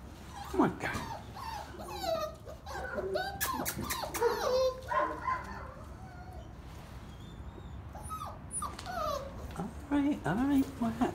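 A Cockapoo puppy whimpers and yips in high, wavering cries, close by, mixed with bursts of human talk.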